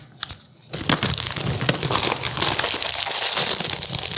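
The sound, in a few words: potato chips poured from a crinkling bag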